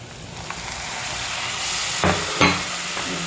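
Tomatoes are dropped into a pan of frying onion, giving a steady hiss and sizzle with a couple of brief louder bursts as they hit the hot oil.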